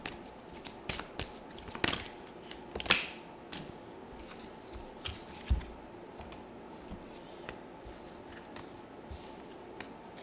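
Tarot cards are shuffled by hand nearby, with soft riffling and scattered crisp snaps and taps at irregular intervals over a quiet room background.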